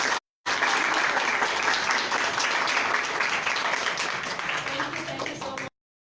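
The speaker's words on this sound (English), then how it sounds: "a nice big clap" Sustained audience applause at a teachers' training institute talk, a dense wash of many hands clapping steadily for several seconds before stopping abruptly.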